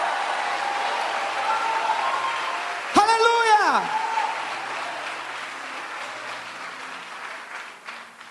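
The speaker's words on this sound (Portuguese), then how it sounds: "aplauda Ele e libere um grito de liberdade" A church congregation applauding in steady, dense applause, with one voice shouting a loud exclamation partway through and other voices under the clapping.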